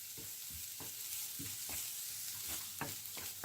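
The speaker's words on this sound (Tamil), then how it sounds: "இதை அப்படியே அந்த எண்ணெயில் கொஞ்சம் வெங்காயம் முழுதாக வதங்க விடாதீங்கோ." Onions frying in oil in a pan give a steady, soft sizzle, broken by several scraping stirs of a spoon against the pan.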